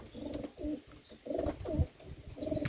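Purebred pigeons coo nearby at a pigeon loft in a steady rhythm of low, rolling calls, one phrase following another with short gaps.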